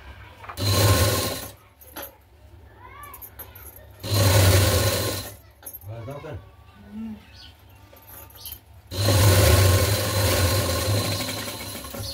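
A sewing machine stitches piping along a blouse neckline in three loud, close bursts of rapid whirring separated by pauses, with someone talking between the runs.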